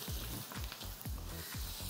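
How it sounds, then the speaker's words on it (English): Onions sizzle in a frying pan for Vietnamese fried rice, giving a steady, close hiss of frying broken by regular scraping stir strokes about every half second, with no voices. "Just a light sizzle there. And my onions go in."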